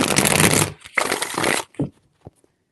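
Tarot cards are riffled and shuffled close up in two quick bursts, followed by a few light taps as the deck is squared.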